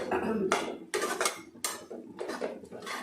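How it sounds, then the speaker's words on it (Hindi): A lid clatters onto a metal pot of butter paneer masala on a home stove, with several sharp clanks and rattles of metal against metal, close and fairly loud, and no talking. "अब मैं इसको ढक दूँगी।"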